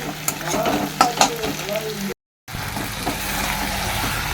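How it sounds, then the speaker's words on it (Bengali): Onions frying in a pan for a chicken curry, a crackling close sizzle with a few stirring scrapes, cut by a brief silent gap before the frying resumes more evenly. "এখানে ভালো করে একটু পেঁয়াজ ভেজে নিচ্ছি"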